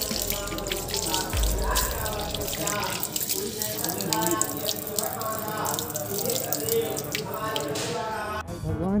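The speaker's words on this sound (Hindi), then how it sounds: "यहाँ पे पेयजल की व्यवस्था है, थोड़ा सा फ्रेश हो जाते हैं पानी पी के" Drinking-water tap at the Jagannath temple in Ranchi, running steadily in a continuous splashing stream into a basin, heard up close, with background voices of people nearby.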